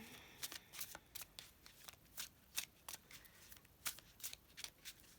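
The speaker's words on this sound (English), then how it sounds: "So I just want to give it a bit more of a shuffle first." Tarot cards shuffled by hand, a quick series of crisp papery riffles and flicks in irregular bursts, close and fairly quiet with no voices.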